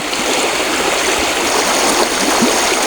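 Warm spring water, welling up after an earthquake, rushes and gurgles in a steady, loud stream that continues without pause and without voices.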